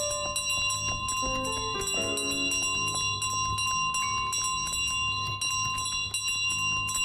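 A small hand bell rings repeatedly and brightly in Untitled Goose Game, a rapid jangling that keeps going over light piano music in the video game.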